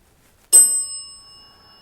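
A bell rings once in a hallway of Malvern Manor: one sharp, bright strike that holds a clear ringing tone, then slowly fades in the otherwise silent space.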